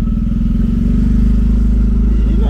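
A Ford Fiesta fitted with a Twister motorcycle engine drones loud and close at steady high revs, its buzzy, uneven note holding throughout with a slight clatter underneath.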